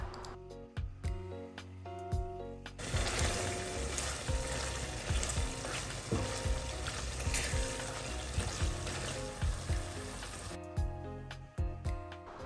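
Mutton frying with yogurt over medium heat in a kadai gives a loud, steady, dense sizzle that holds for several seconds. Quieter clinks and stirring come before and after it.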